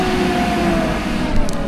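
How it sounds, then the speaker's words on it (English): A bus engine drones steadily and loud with a constant low rumble and a faint tonal whine, with no speech. "this bus is pretty loud"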